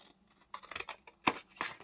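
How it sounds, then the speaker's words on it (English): A few crisp snips of big scissors cutting paper, spaced irregularly, close and fairly quiet, each a short sharp crunch against near silence. "let's do this with the big scissors. So I'm going to cut"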